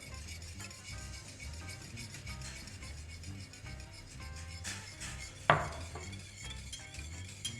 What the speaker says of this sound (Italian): aggiungiamo la semola di grano duro o semolino, un po' alla volta. Andiamo a mescolare bene, velocemente.